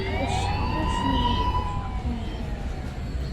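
A loud police car siren in the Indian Bike Driving 3D video game wails continuously up close, its rising and falling tones blending with a low engine-like rumble.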